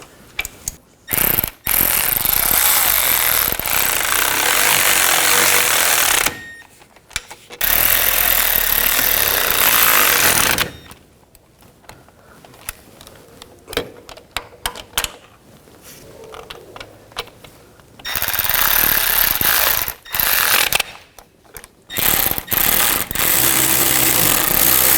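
A ratchet cranks down the rear wheel hub bearing bolts on a 2000-2006 BMW X5, with loud, close bursts of rapid clicking separated by short pauses and quieter gaps. No one speaks.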